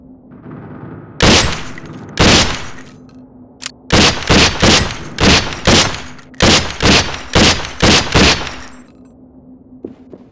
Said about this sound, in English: The M4 fires in semi and full auto modes